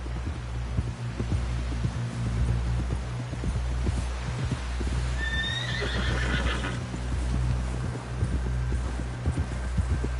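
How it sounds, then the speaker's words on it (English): In the game, a horse gives one clear, loud whinny midway while its hooves thud rhythmically throughout over a deep, steady rumble. "Someone help John down off this horse"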